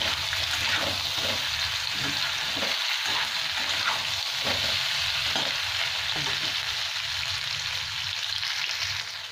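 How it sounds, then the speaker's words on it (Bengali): Spice masala frying in a pan for an arbi (taro root) curry, a steady close sizzle with intermittent stirring scrapes throughout, no voices. "এটা একটু ভাজা হতে থাকবে"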